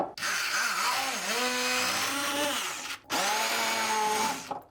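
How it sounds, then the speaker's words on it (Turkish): A hand blender purees cooked pumpkin with a little water, its motor whining loudly and shifting pitch as it churns, stopping briefly before starting again. "Bal kabağını el blenderından geçireceğim."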